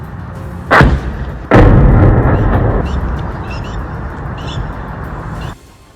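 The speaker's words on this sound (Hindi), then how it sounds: "उसके फटते ही इतना जबरदस्त धमाका हुआ कि आसपास के इलाके भी हिल गए।" A suicide drone explodes among buildings in Erbil with two sharp, loud blasts in quick succession, followed by a heavy rumbling roar that slowly fades before cutting off.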